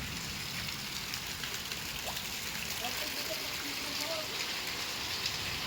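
Steady rain falls throughout during flooding, a continuous hiss of drops spattering on surfaces with a faint trickle of water underneath.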